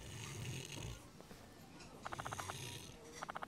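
A woman snores in the video game Judgment, with rough, rhythmic rasping breaths and a rapid fluttering rattle that repeats in short bursts, fairly quiet and close.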